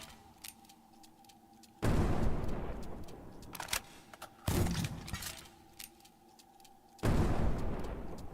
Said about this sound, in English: Yep, that's a grenade launcher.